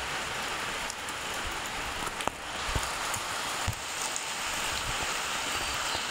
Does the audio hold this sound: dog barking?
no